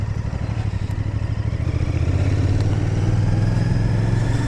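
A 2025 Royal Enfield Bear 650 twin idling close by, its engine thumping in a steady loping pulse that swells slightly into a smoother, fuller drone partway through.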